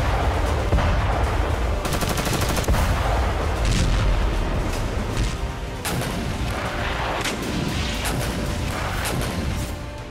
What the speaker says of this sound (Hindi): टैंक से गोले दागे गए